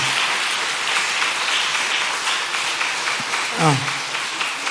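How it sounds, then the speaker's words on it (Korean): Congregation clapping in congratulation at a Sunday afternoon church service, a continuous rain-like patter of many hands held at an even level throughout, with a brief voice rising near the end. "우리 축하 경례의 박수 한번 해주시길 바랍니다"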